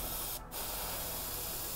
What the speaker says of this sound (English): the angles make it easier to spray the black.